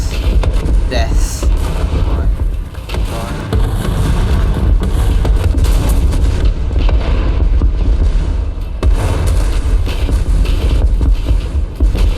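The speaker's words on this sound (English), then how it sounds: "if you shoot 500 rockets, you're bound to hit something" Rocket explosions from the video game War Thunder boom constantly in a loud, dense barrage of blasts and rumbling impacts, with talking mixed underneath.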